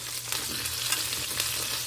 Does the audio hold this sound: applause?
no